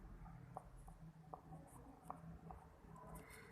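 A teacher writes on a classroom board, producing faint, scattered scratchy strokes in short bursts over a soft background murmur.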